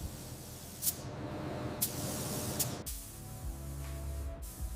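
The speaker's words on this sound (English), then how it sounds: "Locking it in with 3 thick layers of high-gloss clear coat." A spray gun lays thick coats of high-gloss clear coat over gloss-black paint on a 90-year-old steel car body. Its hiss is steady and continuous, broken by a few short, brighter bursts.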